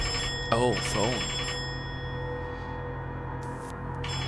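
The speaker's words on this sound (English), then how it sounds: "Oh, phone." A telephone rings in the video game Concrete Tremor with a brief warbling electronic ring burst repeated twice near the start, then fading under a steady hum of background game sound.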